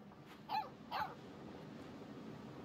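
A dog in the video game Life is Strange 2 gives two short barks about half a second apart, moderately close but soft, over a quiet background with no talk.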